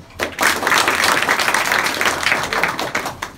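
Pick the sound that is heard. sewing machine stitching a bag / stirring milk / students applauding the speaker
students applauding the speaker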